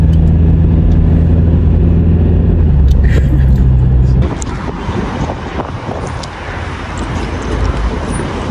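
A car on the road heading toward the Great Ocean Road, with a steady low engine hum and road rumble throughout and buffeting wind noise, the drone dropping and shifting partway through as the drive continues.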